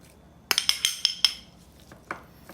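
Chopped red onion, half an onion's worth, is tipped into a bowl of macaroni salad, giving a quick run of bright utensil clinks against the bowl followed by a couple of softer taps, close and with no talking.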